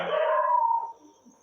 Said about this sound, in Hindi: भाई कुत्ते उत्ते भौंक रहे हैं।